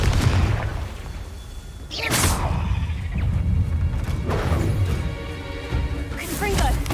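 Confringo blast spells go off in the Hogwarts Legacy video game, several sharp bursting booms and crashes with whooshing tails spread across a few seconds over a busy game soundscape.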